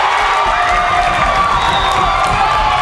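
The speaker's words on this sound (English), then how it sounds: "Putnam crowd goes wild." Home crowd at a Putnam volleyball match against Central cheering and shouting after a big block at the net, a loud, dense roar of many voices with whoops that holds steady throughout.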